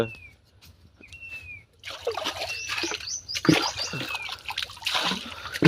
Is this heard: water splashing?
yes